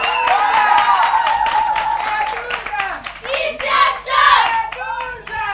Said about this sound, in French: on va applaudir la grande gagnante de cette saison, Judith.